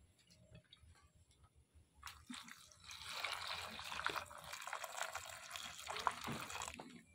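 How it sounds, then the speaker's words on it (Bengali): Hot water poured over 100 grams of dried soybean chunks in a bowl, a soft splashing stream that starts after a quiet moment and runs steadily to the end, faint and close. "এবার দিয়ে দেব গরম জল।"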